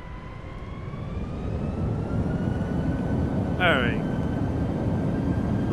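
L-1011 TriStar jet engines spooling up for takeoff in a flight simulator: a steady, rising roar with thin whining tones across it. A single short spoken word is heard partway through.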